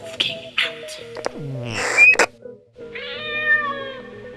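A cartoon space cat meowing in an animated Canadian sci-fi adventure, several loud, close, drawn-out meows and chirps with sliding pitch, separated by short gaps.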